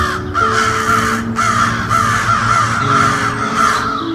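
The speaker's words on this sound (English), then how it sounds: "these cawing sounds that crows make are just so loud and noticeable" Loud crows caw in a steady series of harsh calls, close and clear over a faint background hum, with no voices.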